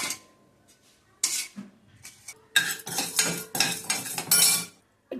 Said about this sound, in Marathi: तिन्ही डाळी आता एकदम आता त्याने खमंग भाजून घ्यायचं आपल्याला